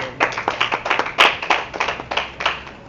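A church congregation claps in a steady rhythmic beat, a quick series of sharp hand claps at close range, with no voices over them.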